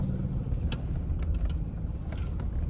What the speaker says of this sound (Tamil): வண்டி வருது பாரு